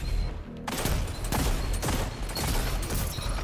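Gunfire in Destiny 2 comes as dense, rapid volleys of shots with sharp repeated cracks and heavy low thumps, loud and close throughout, with no talking.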